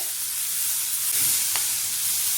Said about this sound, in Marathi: आता छान आपल्याला 4 ते 5 मिनिट मीडियम गॅसवर काळे डाग पडेपर्यंत परतून घ्यायची आहे